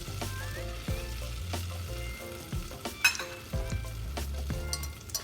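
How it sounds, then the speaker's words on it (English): Cheddar cheese melts in a hot pan for a nacho cheese sauce, giving a steady, close sizzle with occasional clinks and scrapes of stirring. Low tonal sounds continue underneath. "So let this melt and we'll make our cheese sauce just like a mornay sauce"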